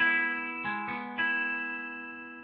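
A short electric guitar phrase: three picked notes or chord shapes in quick succession, effected and sustained, fading slowly with no talking.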